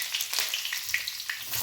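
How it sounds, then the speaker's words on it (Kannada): Curry leaves hit hot oil, giving a brief, quiet crackling sizzle with small spitting pops throughout. "ಕರಿಬೇವಿನ ಸೊಪ್ಪು ಆ್ಯಡ್ ಮಾಡ್ಕೊಳ್ಳೋಣ."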